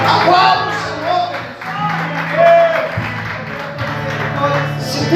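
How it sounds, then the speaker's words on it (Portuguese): A church congregation applauds during a service, steady clapping running under music and voices for the whole stretch at moderate loudness. "Aplauda ao Senhor nessa manhã."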